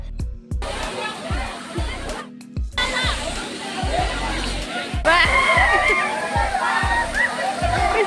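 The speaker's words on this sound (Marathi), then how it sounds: "सोमनाथ येथील वॉटरफॉलमध्ये शीतल अशा धबधब्याखाली आम्हाला पोहण्याचा आनंद मिळाला" A waterfall at Somnath near Mul, Chandrapur, rushes and splashes in a loud continuous roar, with people chattering and calling in the background.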